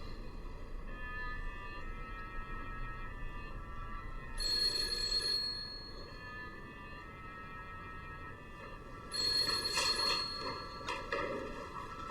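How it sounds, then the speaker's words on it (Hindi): A telephone rings twice in an Iranian drama dubbed in Urdu, two short trilling bursts a few seconds apart over a quiet background hum. "तुम फोन क्यों नहीं उठा रहे हो मजीद?"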